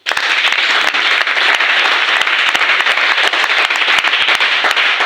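Church congregation applauding at a pre-marriage couples' gathering, dense sustained clapping with sharp individual claps throughout, loud and steady with no speech.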